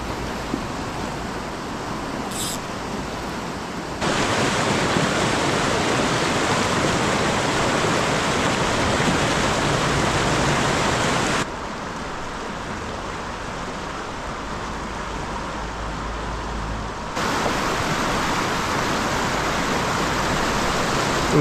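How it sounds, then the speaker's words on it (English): Steady, heavy roar of the fast-flowing Big Thompson River in Estes Park, Colorado, close by, loud and continuous with no voices, its intensity shifting slightly in sections. "this is heavy water right here"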